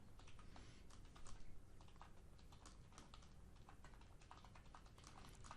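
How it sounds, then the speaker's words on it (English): Fingers tap steadily on a computer keyboard in quick, irregular clicks, faint and continuous, with no talking. "Sorry for my typing in the background."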